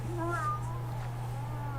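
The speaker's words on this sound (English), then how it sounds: "That's what the cat sounds like." Cat meowing in a video game, a short rising meow heard over a steady low hum and game music, fairly quiet.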